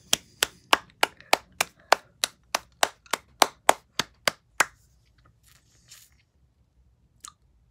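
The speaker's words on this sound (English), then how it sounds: "let's clap for the custodians for warning us and setting off their fire alarm" A small group claps for the school custodians who set off the fire alarm during a school fire: about sixteen sharp, evenly spaced claps close by, then a few faint knocks and silence.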